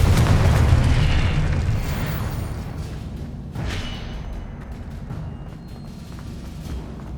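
A Confringo fire spell from Hogwarts Legacy bursts in a deep, rumbling explosion that is loudest at the start, then fades into a lingering low roar with a softer whoosh midway, and no voices.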